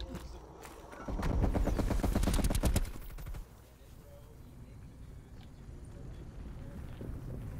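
Rapid automatic gunfire bursts in Call of Duty Black Ops Cold War for about two seconds, loud and dense, then quieter game ambience follows.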